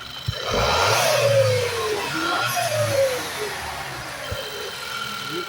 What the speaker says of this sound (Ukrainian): А я вас можу попросити сісти за кермо і натиснути на газ